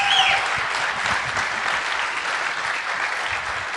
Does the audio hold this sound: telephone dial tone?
no